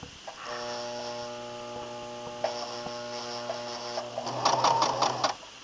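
A sewing machine stitches fabric with a steady electric hum, running in a short burst of a few stitches, then briefly rattling faster near the end, close and clear with no talking.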